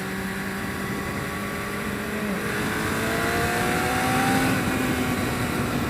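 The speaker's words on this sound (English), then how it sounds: "it's very, very clean revving when you're on the go" A Yamaha FZR 600 motorcycle engine revs steadily and loudly while riding, its pitch climbing gradually as it picks up speed, with a constant rushing drone underneath.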